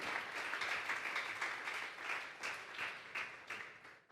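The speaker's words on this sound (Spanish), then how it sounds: "Vamos a darle una ofrenda de palmas a Dios." A church congregation at a Sunday service claps together for about four seconds, a dense, even applause with a slightly rhythmic pulse, heard from some distance and somewhat faint.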